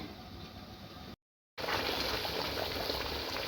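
Masala fish curry simmering covered in a pot, a steady bubbling hiss that drops out briefly and then returns louder, close and continuous with no voices.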